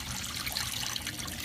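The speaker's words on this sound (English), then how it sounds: "You can see it's just draining out right now." Water drains out of a compact mini twin tub washing machine as a steady close trickling and gurgling flow, continuous and fairly quiet with no talking.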